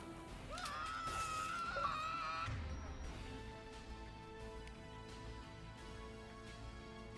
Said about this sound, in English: The 20 enemies scream as they fall or are set on fire